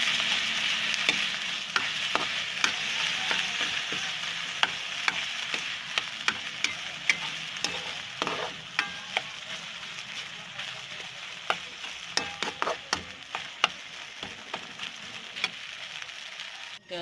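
Sausage and corned beef fry in a hot pan with a steady, close sizzle, broken by frequent sharp scrapes and taps of a utensil stirring the meat.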